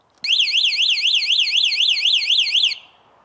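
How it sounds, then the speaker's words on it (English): Anti-theft alarm on an Electric Bike Company Model Y e-bike blares a loud, close electronic whooping tone, rising and falling rapidly for about two and a half seconds before cutting off. "it does come with an anti-theft alarm system"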